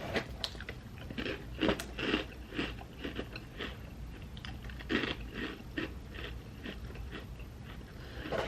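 Dry Eggo waffle cereal crunched and chewed up close, a run of irregular crisp bites and crackly chewing, loud and near with no talking.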